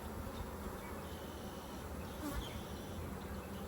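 Honeybees swarm out of an opened hive during an inspection, a constant dense buzz of many insects filling the air, quiet and close, with no voices.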